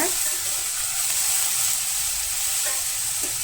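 Mustard seeds, urad dal and cumin tempering in hot oil in a kadai, a steady close sizzle with faint crackle running throughout, no talk.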